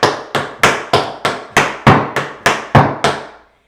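Tap shoes striking a hard floor in an intermediate tap routine to Britney Spears' Circus, about eleven sharp, evenly spaced metallic clicks in a steady rhythm, loud and close with no talking.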